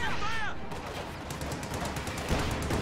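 Tank main-gun fire in a World War II real-time strategy battle, a dense run of loud booms and crackling shots over a continuous battle din, with a sharper blast near the end.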